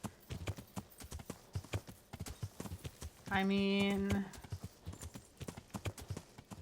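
A horse in the medieval video game Kingdom Come Deliverance clip-clops in a steady, quick hoof rhythm throughout, interrupted once by a loud whinny. A person talks briefly over it.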